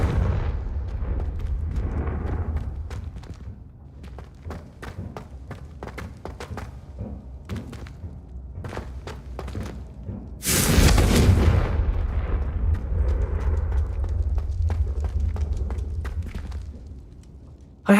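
Confringo fire spells going off in Hogwarts Legacy: a run of sharp blasts and thuds, then a heavy roaring explosion midway, followed by a rumbling tail. No one talks.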